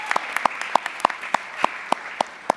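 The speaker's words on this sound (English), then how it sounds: "Let's give Ms. Elda Garcia a round of applause" Applause at a Hampton City Schools board meeting honoring the elementary teacher of the year, heard as a steady wash of clapping under a regular series of sharp, evenly spaced louder claps or taps close by.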